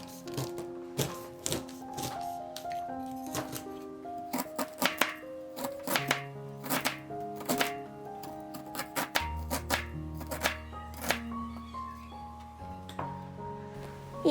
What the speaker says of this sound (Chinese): 1根嫩玉米切成2段，再把玉米粒切下来备用